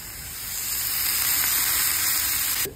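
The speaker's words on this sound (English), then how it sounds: "We're just going to drop this in the pot and let it sizzle." Loud, steady sizzling and hissing of pork skin frying in a pot for Cajun cracklins, swelling over the first half second, then holding constant until a sudden stop.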